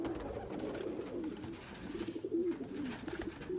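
A pigeon coos repeatedly in soft, rolling low calls, fairly close, with no talking.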